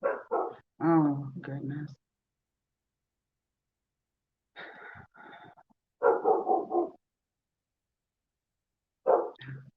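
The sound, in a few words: dog barking outside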